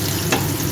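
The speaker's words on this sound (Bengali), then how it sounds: "আমি এটা সাদা তেল আর সরষের তেল মিশিয়ে এগুলো ভেজে নিচ্ছি।" Mixed vegetables sizzle and crackle in a blend of white oil and mustard oil, close and steady, with a short stirring scrape midway and no talk.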